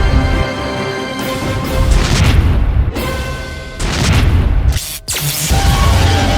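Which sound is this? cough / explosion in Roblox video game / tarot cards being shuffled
explosion in Roblox video game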